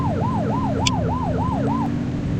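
A police car siren in The Precinct video game wails in a fast, rising and falling yelp over a steady engine hum, loud and close, with a brief electronic beep partway through.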